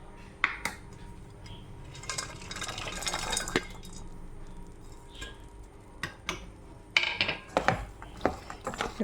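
Fried chicken pieces stirred into oily masala in a pan for Kerala chicken pickle, with repeated metal spoon scrapes and clinks against the pan over a soft, wet sizzle.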